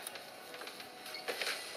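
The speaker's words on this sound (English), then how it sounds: "we're just going to go to the sewing machine and stitch close to this fold all the way down to secure our seam" A sewing machine stitching close to a fold along a fabric seam, a faint, steady mechanical whir with soft rhythmic ticking, heard alone at low level.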